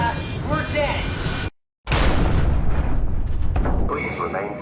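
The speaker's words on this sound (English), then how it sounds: "Brace for impact! Hold on, the blast just pushed us off the plateau!" A blast strikes a sealed submersible in the SOMA video game, a heavy deep boom and rumbling roar that cuts out briefly then surges back loud and turbulent, with a voice briefly heard near the end.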